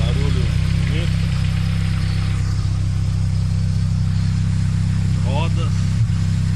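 Engine of a Triway tricycle running at a steady low idle throughout, near and constant, with someone talking over it.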